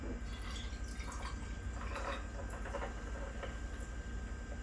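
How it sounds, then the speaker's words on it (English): Ginger beer pours into a Moscow Mule cocktail with a close, continuous fizzy trickle and splash, lasting a few seconds. "And then you just top with ginger beer"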